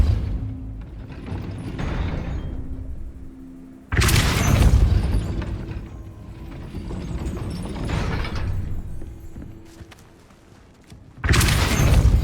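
Spells go off in Hogwarts Legacy, a fantasy video game: loud booming impacts with rumbling, grinding mechanical movement and creaks of a heavy gate mechanism, in three big bursts separated by sustained whirring, with no talking.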